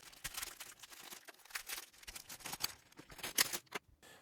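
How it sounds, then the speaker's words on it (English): Crinkly plastic rustles and snaps in quick, irregular bursts, close by, as a plastic bag around comic books is pulled and torn open. "I just have to get through this plastic bag here."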